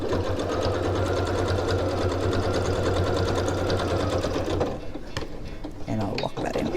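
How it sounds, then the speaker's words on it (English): A sewing machine top-stitches a seam on a reversible tote bag, running in a fast, steady mechanical patter for several seconds before stopping, followed by a few quieter clicks and handling noises. "there's our first row of top stitching"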